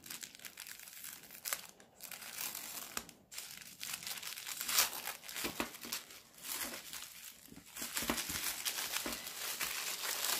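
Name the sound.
opening a paper bag carefully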